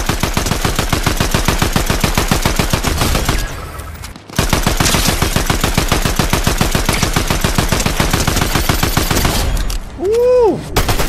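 Rapid, continuous SMG fire from a video game in long loud bursts, broken by a short pause, ending with a rising synthetic tone.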